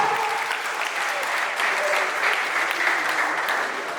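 Applause at the official opening of an industrial agricultural enterprise in Haiti, a dense sustained clapping from a crowd that holds steady and fairly close throughout, with faint voices underneath.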